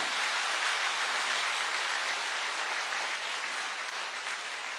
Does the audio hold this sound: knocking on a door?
no